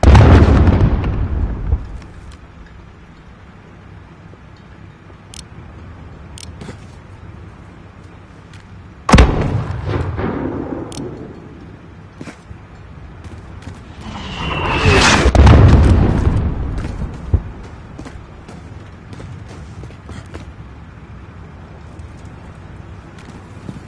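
Mortar shells explode in Call of Duty Modern Warfare, loud booming impacts at the start, a sharp blast near the middle and a rolling explosion later, with quieter ambience and occasional clicks between.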